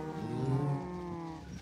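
Minecraft cows mooing in a farm pen, one long, low, steady moo that is close and clear and fades out near the end.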